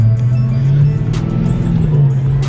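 A car engine holds a low, steady drone that swells slightly with throttle, loud and close with a brief faint clink, while people speak nearby.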